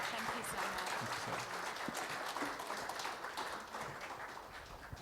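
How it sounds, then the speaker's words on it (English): An audience in the NSW Parliament applauds steadily, a dense, even clapping that fades slightly toward the end. A voice speaks faintly under it. "we'd like to give a round of applause for Justin and Sarah"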